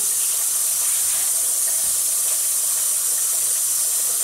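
Water rushes from a tap into a container for soaking dried salted cod, a loud, steady hissing pour held close to the microphone.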